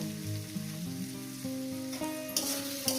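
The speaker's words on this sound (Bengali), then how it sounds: "কাঁচা লঙ্কা পেঁয়াজটাকে দিয়ে দিলাম এটা মিনিট একটু করে ভেজে নেব" Green chillies and onion frying in hot oil for a Bengali mustard-greens and river chuna fish bharta, a steady close sizzle with faint crackle and a few soft stirring knocks, no talk.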